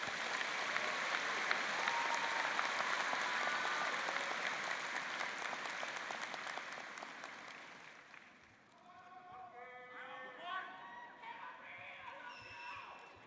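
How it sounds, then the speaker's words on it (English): Graduation ceremony audience at a university College of Science degree celebration applauding a graduate, loud sustained clapping that fades after about eight seconds into a quieter hall with scattered sounds and faint talk. "Let's give him a round of applause"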